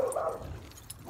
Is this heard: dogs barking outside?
yes